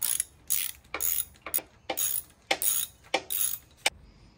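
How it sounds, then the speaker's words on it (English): A torque wrench tightens a bolt on a Royal Enfield 350cc motorcycle during its first service, heard as a close series of about nine sharp ratcheting clicks in an even rhythm, with no talk. "let the torque wrench take over."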